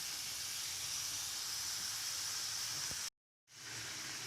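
Fish tikka masala fries in a karahi with a continuous loud hiss of oil and steam, broken by a sudden brief cutout near the end before the sizzling resumes.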